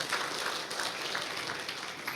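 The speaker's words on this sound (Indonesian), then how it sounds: "Tepuk tangan bagi Allah kita" A church congregation applauds in steady, dense clapping that fills the room at moderate level, with no voices over it.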